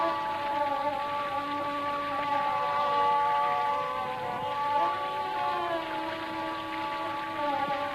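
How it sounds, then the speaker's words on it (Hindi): Heavy rain pours in a steady, dense hiss throughout, with sustained musical tones layered over the downpour. "ठहर जाओ थोड़ी देर, बहुत बारिश हो रही है।"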